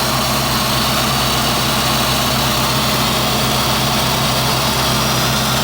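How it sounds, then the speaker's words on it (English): A 245 hp L98 V8 from a 1990 C4 Corvette with 77,000 miles runs steadily, a loud, constant low engine drone and roar heard up close with no speech. "This is the 245 horsepower L98 engine."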